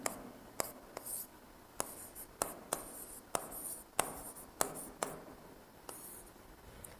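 Chalk or a marker scratches across a board during a chemistry lesson, in short, sharp strokes and taps at an uneven rhythm, faint and close, with no talk.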